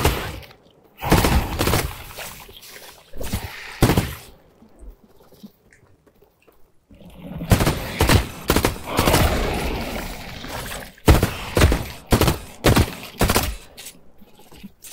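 Heavy gunfire in the shooter game The Cycle: Frontier, loud dense bursts of rapid shots in several rounds, with short quiet gaps between volleys.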